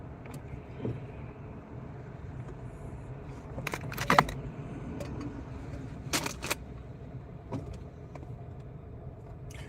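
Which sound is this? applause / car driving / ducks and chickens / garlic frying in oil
car driving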